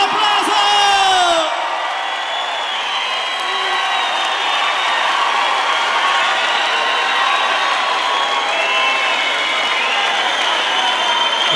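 Live concert crowd at a Brazilian sertanejo duo show roars with sustained cheering, whoops and applause, a dense wash of sound that swells loudly after an opening moment and holds steady throughout, with scattered shouted voices.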